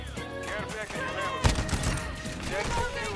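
Rapid gunfire from a video game gun in a multiplayer shooter match, a dense fusillade of shots with a sharp burst midway, mixed with game sounds and a voice talking over it.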